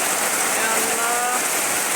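Heavy rain pours steadily in a dense, even hiss, loud and close, with no break over the short stretch.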